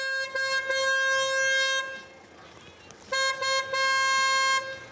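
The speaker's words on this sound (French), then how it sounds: "Ça klaxonne, hein?" A vehicle horn honks in two long, loud blasts, each holding a steady bright tone for about two seconds, separated by a short gap of background rumble.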